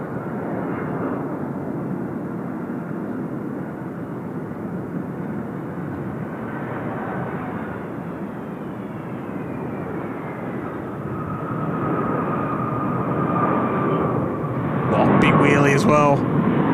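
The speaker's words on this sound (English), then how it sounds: "Hopefully we get some nice Pratt & Whitney sounds here" Jet aircraft with Pratt & Whitney engines at Incheon Airport, a steady broad rumbling roar that swells and grows louder toward the end as the plane passes, with a voice talking over it.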